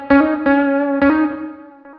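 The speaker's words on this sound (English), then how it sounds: "Let's do chroma verb." Plucked, chorus-tinged electric guitar notes in a music track, run through a ChromaVerb reverb, sound as three or four bright struck chords, each decaying into a short shimmering tail, with a softer final note trailing off.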